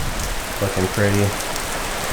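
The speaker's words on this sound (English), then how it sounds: "It is raining, as you guys can see." Steady rain falls outdoors near a parked Audi B8.5 S4, a dense hiss of drops on hard surfaces running throughout, with a brief spoken comment over it.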